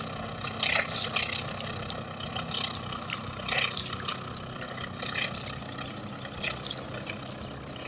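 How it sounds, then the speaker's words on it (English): A diesel generator runs aboard a boat, powering the air conditioning and panels, heard as a steady low engine drone with broadband exhaust and water noise, constant and fairly close throughout, with no talking. "very happy to see that my generator is running just fine, powering the air conditioner and all the panels"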